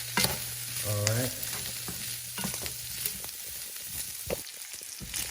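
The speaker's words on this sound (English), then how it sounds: "we'll add our pepperoni, and we'll cook this down" Italian sausage and pepperoni frying in a pan give a close, continuous sizzle with stirring scrapes and clacks throughout, no one speaking.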